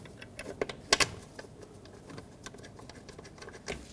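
A ratchet snugs two 8mm-headed bolts on the ignition coil bracket of a 1998-2011 Ford Ranger 4.0L V6, giving faint, scattered clicks with one sharper tick cluster, close by in a quiet garage.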